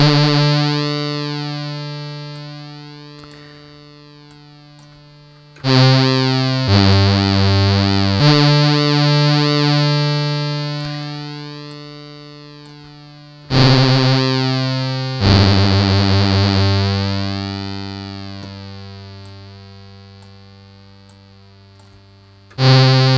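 Harsh distorted synth tone from a Softube software modular synth patch, sustained with a buzzy, rich harmonic edge, retriggered several times with loud swells that slowly decay, no voices.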